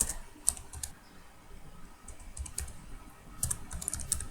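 Typing on a computer keyboard while entering a label in statistics software, quiet irregular clusters of close key clicks with short pauses, no talking.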